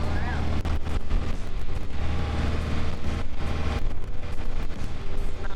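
A sailboat motors under engine power at sea, its steady low engine drone mixed with wind buffeting and water wash, while a person talks over it.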